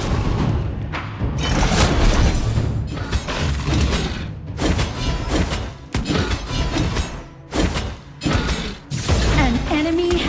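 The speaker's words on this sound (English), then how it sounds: "Your team has destroyed a turret." A turret is destroyed in the mobile battle game Honor of Kings, with loud booming crashes, shattering debris and clanking mechanical effects layered over busy continuous game audio, ending in a rising tonal sweep.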